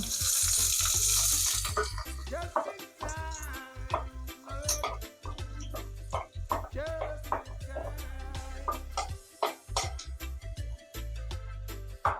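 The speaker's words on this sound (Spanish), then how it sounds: "ya tenemos el aceite caliente. Voy a echar la cebolla." Chopped onion dropped into hot oil in a pan for a Spanish lentil and rice soup, crackling and sizzling steadily at close range, loud and dense at first, then busy frying with clicks of stirring and faint background music.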